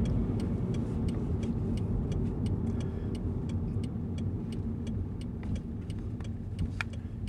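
A car climbs a hill in Casper, Wyoming, its steady engine and road noise holding constant and close throughout with no voices.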